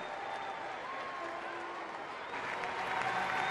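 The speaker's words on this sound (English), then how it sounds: "And Buchholz leaving to a nice ovation from this Fenway crowd." A Fenway Park baseball crowd applauds a departing Red Sox pitcher, Buchholz, in a September game against Toronto, with steady, swelling clapping and cheering from a large crowd under a broadcaster's voice.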